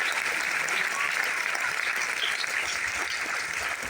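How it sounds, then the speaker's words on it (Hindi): Steady, dense clapping from an audience fills an auditorium at a business plan meeting, loud and sustained for a few seconds. "तो अपने आप के लिए भी तालियां बजाइए।"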